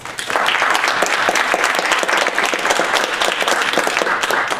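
A lecture audience claps steadily and warmly for several seconds to welcome speakers at a community supported fishery talk, a dense continuous wash of applause with no voices over it.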